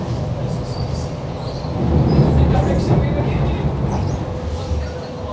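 A Sheffield Supertram rolls along its route in the city centre, a loud, continuous rumble with rail noise that swells slightly midway and then eases.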